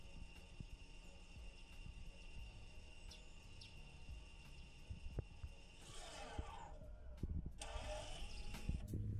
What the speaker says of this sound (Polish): Po tych charakterystycznych dźwiękach pracy tłoczków